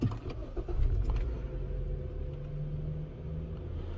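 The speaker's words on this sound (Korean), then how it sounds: "일단 시동을 걸어서" A car engine cranks and catches during fault-code diagnosis, giving a brief rough burst before settling into a steady low idle rumble, close by and alone.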